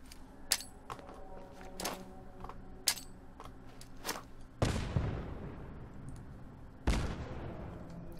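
Two heavy fragmentation grenade blasts in the post-apocalyptic shooter Fallout 4, each a sudden loud boom with a rumbling tail, a couple of seconds apart, preceded by light clicks and clinks.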